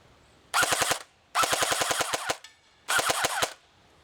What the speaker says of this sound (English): Let's do a full auto burst.